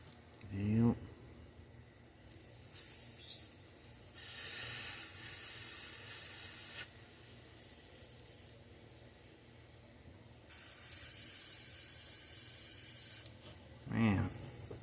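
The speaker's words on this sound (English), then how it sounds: "that's what happens when that copper gets sprayed through here at low pressure" A spray gun sprays copper paint at low pressure onto a model cichlid fish, sounding as several close hissing bursts of a few seconds each, separated by quiet gaps and faint handling noise.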